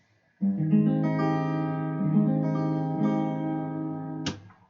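A guitar chord strummed once and left to ring for several seconds, clear and sustained, with a brief bright scrape as it is cut off.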